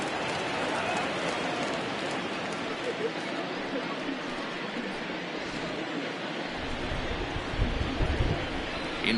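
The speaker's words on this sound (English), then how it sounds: "the rain starting to intensify here. It's coming down a little heavier now." Rain falls steadily at a baseball game, a broad continuous hiss of drops that thickens and grows heavier toward the end, with a broadcaster's voice talking over it.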